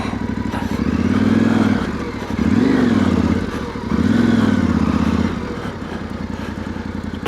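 Yamaha Tenere Extreme motorcycle riding off-road on a rally track, its engine loud and close, rising in three revving surges that each hold for about a second before easing back to idle.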